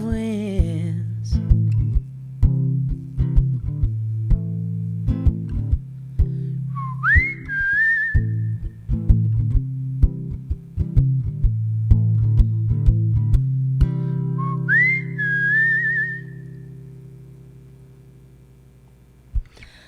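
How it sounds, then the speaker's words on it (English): Two short whistled phrases, each a quick upward slide into a held note, ring out clearly over steady background music with low rhythmic tones, at a storytelling festival. "I like to whistle"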